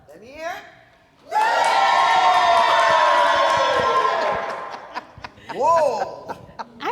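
A live studio audience erupts into loud, sustained cheering and whooping for about three seconds, called on to vote for a woman's jokes, then fades into scattered shouts and laughter.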